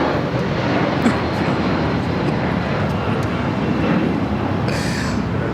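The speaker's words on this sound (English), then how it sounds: "This is United Airlines 1939 taking off to Newark on the 757-200" A United Airlines Boeing 757-200 taking off from LAX gives a steady, distant broadband engine rumble that stays even throughout, with faint background noise and no clear talk.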